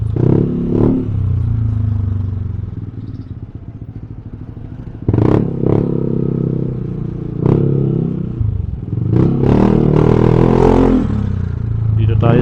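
A motorcycle fitted with an aftermarket open-pipe exhaust rumbles close by with a throaty, uneven note, broken by several sharp bursts and clattering surges as the throttle is blipped.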